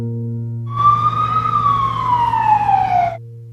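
A single wailing siren from an ambulance or police vehicle, loud and close, sliding downward in pitch over about two and a half seconds, with a steady low engine hum before and after.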